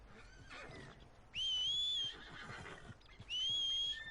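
A horse whinnies twice in high, shrill calls in Red Dead Redemption 2 on PS4, with soft clip-clop and ambient noise underneath, with a clean, synthetic game-like quality.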